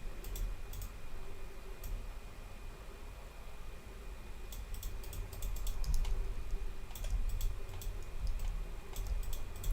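Mouse clicks while tracing a shape in graphics software, faint sharp ticks coming singly and in quick clusters over a low steady hiss.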